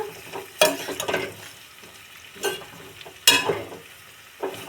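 Spice masala is stirred into a winter pickle of carrot, cauliflower, radish, turnip, chilli and peas, making a few separate bursts of scraping and mixing with quiet pauses between them.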